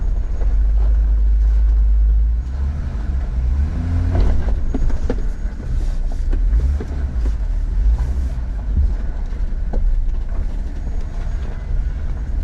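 A long-wheelbase 2021 Jeep Gladiator Mojave (JT) crawls over off-road terrain, its engine a steady low rumble with a heavier surge at the start, plus scattered knocks and rattles from the rough trail; no one speaks.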